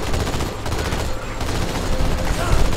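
Continuous rapid gunfire from Halo 2, dense and loud throughout, with overlapping automatic bursts in a busy firefight.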